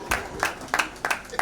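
Audience applause for Adeleke Lefak Fakoya at his 60th birthday celebration, heard as a few short bursts of claps, fairly close and moderately loud.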